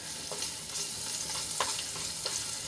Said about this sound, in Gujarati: હવે મરચાંને આપણે એક મિનિટ માટે થોડાક સાંતળી લઈશું